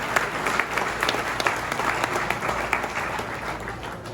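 A crowd at a political speaker's annual burgers-and-brews gathering gives staff and family a dense round of applause, a continuous wash of clapping heard from within the room.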